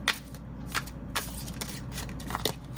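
Tarot cards being shuffled by hand, several quick riffling bursts at irregular intervals, close and soft, over a faint steady background with no talking.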